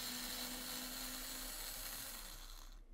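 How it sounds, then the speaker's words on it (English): A power driver backs a screw out of a cocktail arcade cabinet panel, giving a steady, close whirring drone with a faint high whine that runs almost three seconds and then cuts off. "So let me get this screw out."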